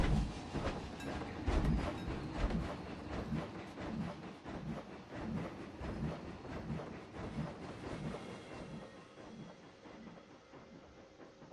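A model railway train runs steadily along its track in a wild west layout, giving a continuous close rolling rumble with fine clicking texture that eases off toward the end.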